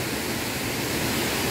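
A mountain waterfall beside a natural pool roars as a dense, constant broadband wash, loud and close with no other sounds.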